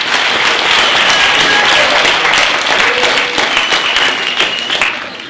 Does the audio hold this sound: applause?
yes